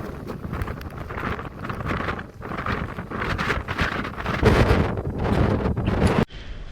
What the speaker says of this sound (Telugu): విపరీతమైన గాలి అయితే వస్తూ ఉంది